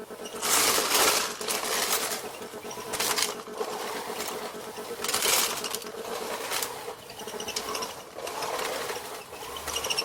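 A BISSELL Natural Sweep dual-brush cordless sweeper picking up nut shells and husks from the floor, with a busy rattling, clicking brush sound in close repeated bursts and no clear talking.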